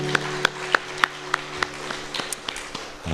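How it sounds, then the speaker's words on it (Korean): A church congregation gives applause during a Friday sermon, with a handful of distinct sharp claps in a regular rhythm, fairly close, then a brief scatter of lighter clapping. "우리 주님께 영광의 박수 올려드리겠습니다."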